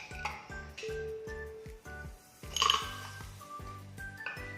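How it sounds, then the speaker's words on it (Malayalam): Ice cubes dropped into glasses for mango and grape soda, giving a run of sharp glassy clinks and clatters, several quick drops with one louder burst midway, close and clear with no talk. "അതുപോലെ മറ്റൊന്നിലും ഇതുപോലെ തന്നെ 4-5 ഐസ് ക്യൂബ്സ് ഇട്ട് കൊടുക്കാം."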